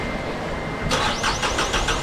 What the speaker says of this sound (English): Hoping the engine starts.